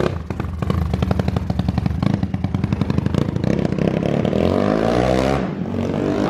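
A modified Honda Biz motorcycle with a 283cc engine revs hard on a street, its rapid, close exhaust pulses loud and throbbing before climbing in pitch toward the end.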